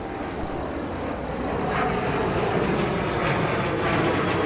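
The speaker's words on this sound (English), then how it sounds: "Challenger 350 taking off." Challenger 350 business jet taking off at a snowy airport, a steady broadband engine roar heard from a distance that builds slightly, with no talk.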